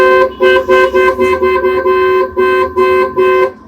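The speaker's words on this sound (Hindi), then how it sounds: "हॉर्न की आपको साउंड सुनाना चाहता हूँ मैं, ये हॉर्न की साउंड आप चेक कर सकते हैं" A Creta-style tempered car horn fitted to a 2024 Maruti Jimny sounds in about nine quick, loud, close honks in a steady rhythm, a bright multi-tone blare with short gaps.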